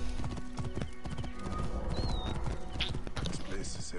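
Rapid hoofbeats clop steadily under voices and game music, with a brief whinny partway through.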